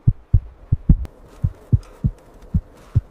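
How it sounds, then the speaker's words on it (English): A heartbeat sound effect of steady, deep thuds, about eight beats evenly paced at roughly one every 0.4 to 0.5 seconds, close and prominent over a low rumbling bed, with no talk. "you finally hear your own heart beating clearly"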